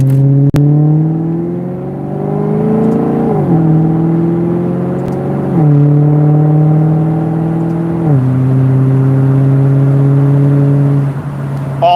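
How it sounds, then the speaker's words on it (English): A car bought from a sketchy seller idles loudly nearby with a steady engine drone, rising in pitch as it revs and then dropping back several times, with no talk over it. "just the noises I'm hearing are normal for this car"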